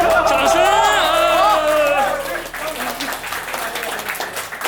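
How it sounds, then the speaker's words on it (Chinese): Clapping and cheers from a crowd of about fifty guests at a whole-roast-pig BBQ party award ceremony, loud and sustained, then fading into scattered claps and chatter as people talk over it. "掌声！"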